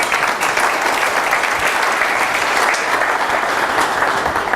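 Loud, sustained clapping from an audience during a business webinar presentation, an even dense roar of many hands with no pause.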